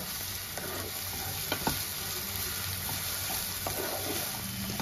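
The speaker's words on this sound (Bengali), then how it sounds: "রসুনের পেস্টটা পেঁয়াজের সাথে একটু ভাজা ভাজা করে নেব।" Ginger-garlic paste frying with onions in a pan, a soft continuous sizzle with occasional spoon scrapes and taps from stirring, close and steady.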